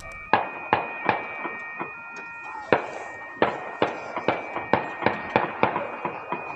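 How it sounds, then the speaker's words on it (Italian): A rapid series of sharp gunshot cracks from a shootout after a robbery, about fifteen of them in irregular bursts, heard from a distance with faint background noise. "ecco un video girato da un residente della zona dove si sentono distintamente sirene e spari"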